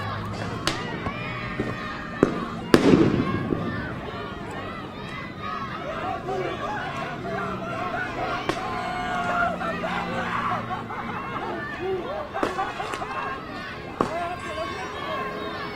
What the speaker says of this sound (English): That's tear gas, that first one.